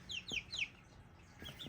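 Young chickens with changing voices give a few quick high peeps and soft clucks, three close together then a couple more after a pause, faint and without talk.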